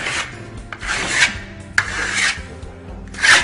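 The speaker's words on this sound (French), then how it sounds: "appliquez à la lisseuse une couche fine par zone de 30 cm de diamètre" A steel trowel rasps Venetian plaster across a wall in thin coats, several loud close scraping strokes in an uneven rhythm.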